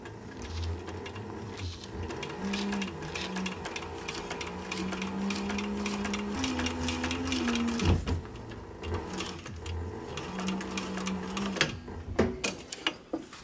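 A sewing machine stitches a short cap brim with a steady, close mechanical whirr and rapid needle clatter that pauses and restarts briefly, with no talking.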